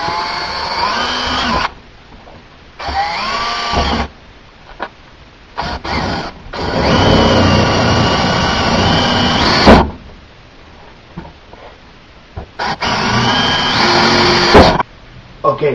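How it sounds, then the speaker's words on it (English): Repeated bursts of a power drill with a 3/8 bit whirring into a thin plastic hockey mask, each run lasting a few seconds, separated by short pauses and clicks, close up. "put your 3/8 drill bit in there, and then you're going to drill all the holes out"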